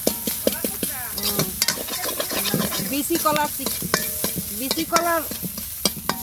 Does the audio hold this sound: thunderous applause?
no